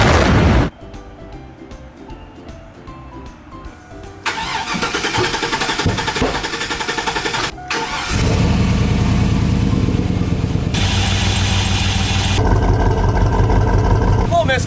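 An old truck engine cranks with rapid rhythmic starter chugging, then catches and runs rough with an uneven misfiring idle that grows louder and steadier, close by.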